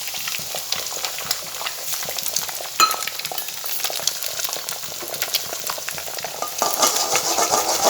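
Egg stirred with fried potatoes and vegetables in a hot pan, a loud steady sizzle with repeated scraping and clattering of a spatula, no talk.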